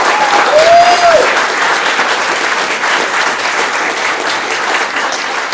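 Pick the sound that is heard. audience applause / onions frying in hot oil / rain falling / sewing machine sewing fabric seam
audience applause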